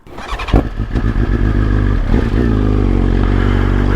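A motorcycle engine on a cold start cranks and catches with a few sharp bursts, then settles into a loud, steady, close idle.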